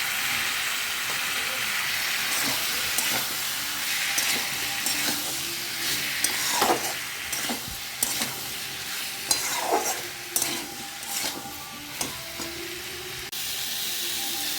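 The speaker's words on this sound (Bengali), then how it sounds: "সব দিয়ে ভাজবো ভালো করে" Chopped tomato and ginger-garlic paste fry with spices in a pan for a fish curry, a constant sizzle broken by repeated scraping stirs of a spatula, close and unhurried.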